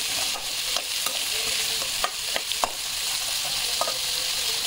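Crunchy beans stir-fried in a pan, a steady bright sizzle with light scraping and tapping of a spatula stirring throughout, close and continuous.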